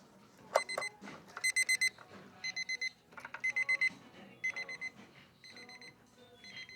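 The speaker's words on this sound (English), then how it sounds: "Was that the alarm?" An electronic alarm clock without a wind-up mechanism beeps in quick clusters of about four tones, the groups repeating with short pauses and fading slightly toward the end.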